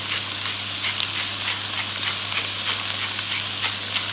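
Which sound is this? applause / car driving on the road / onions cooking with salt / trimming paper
onions cooking with salt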